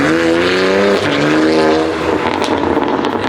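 A Porsche 992 GT3 fitted with an F1-style exhaust revs loudly and close by, a high, rising engine wail that drops after a second, then climbs again into a raspier, crackling roar, with no talk.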